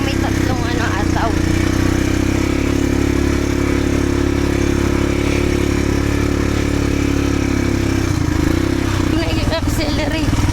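A motorcycle engine runs steadily and close by, then revs harder near the end while people chat over it.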